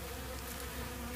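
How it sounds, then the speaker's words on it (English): Yellow jackets and honeybees buzz in a dense, steady drone around the entrance of a weak honeybee hive under attack from robbing wasps, close and continuous throughout. "there's more yellow jackets than there are honeybees"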